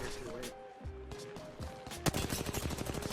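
Gunfire in the battle-royale video game Apex Legends: rapid bursts of shots crackle out in quick succession, loudest in the second half, while players talk over it.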